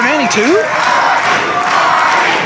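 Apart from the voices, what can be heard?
wrestling crowd cheering and chanting for Jeff Hardy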